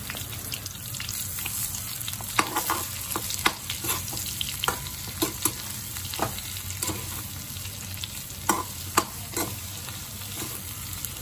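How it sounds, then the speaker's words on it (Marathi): Eggplant pieces and leftover masala stir-fried in hot oil, giving a steady close sizzle broken by repeated sharp scraping clicks of a spatula against the pan, with no talking. "तेल गरम झाले की अशा प्रकारे वांगे आपल्याला तेलामध्ये सोडायचे आहेत सगळे व जो मसाला राहिला होता तोही या वांग्यामध्ये टाकून द्यायचा आहे व परतून घ्यायचे आहे चांगले"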